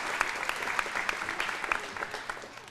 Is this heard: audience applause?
yes